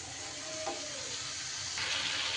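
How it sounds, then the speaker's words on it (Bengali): Water is poured in to rinse a mixer grinder jar, producing a steady, close hissing trickle that swells into a louder rush near the end. "মিক্সির বাটিটা ধুয়ে সামান্য একটু জল অ্যাড করে দিলাম।"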